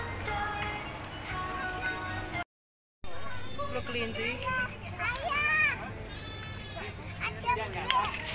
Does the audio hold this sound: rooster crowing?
no